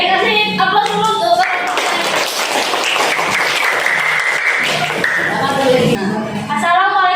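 A classroom audience claps in dense, continuous applause for several seconds, loud and close. A voice speaks over the start and end.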